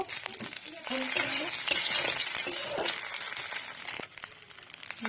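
Fish heads dropped into mustard oil with dried red chilli sizzle steadily in a pan, with clinks and stirring noises close by and no talking.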